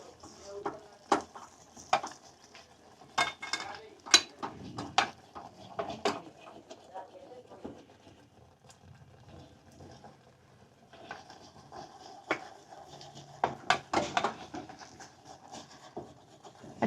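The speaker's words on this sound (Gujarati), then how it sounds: "આપણે વેલણથી હલાવવાનું છે" Wheat flour dough being stirred with a rolling pin in a pot for ghau nu khichu, giving scattered knocks and scrapes in bursts with quieter stretches between, close and moderately loud, no talking.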